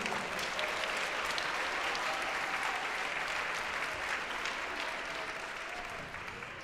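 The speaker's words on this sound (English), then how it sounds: "Let's give a round of applause again for our county executive," An audience at a Martin Luther King Day celebration in Montgomery County, Maryland claps steadily in sustained applause, dense and even, slowly tapering near the end.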